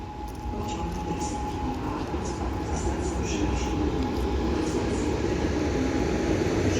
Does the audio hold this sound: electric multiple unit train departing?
yes